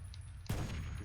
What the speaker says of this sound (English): These explosions are killing me.